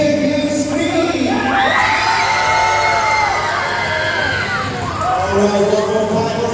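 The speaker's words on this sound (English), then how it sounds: "let me hear you scream" A large crowd at a Universal Studios Singapore show screams, shouts and cheers loudly for several seconds. Children's voices mix into the din, which swells and dips but never stops.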